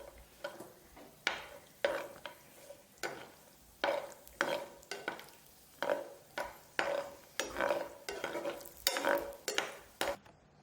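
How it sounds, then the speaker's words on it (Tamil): Cashews roast in a pan for sweet lentil payasam while a spoon stirs and scrapes them, giving a steady run of close, rhythmic scraping strokes under a faint sizzle, with no talk. "முந்திரி பொன்னிறம் ஆகிற வரைக்கும் வறுத்து எடுத்துக்கலாங்க"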